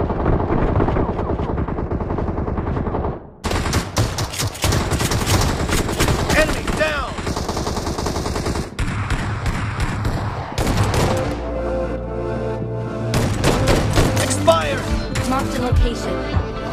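Rapid bursts of automatic gunfire and scattered single shots ring out in a first-person shooter game, loud and close, with brief pauses and abrupt cuts between volleys and a voice talking in between.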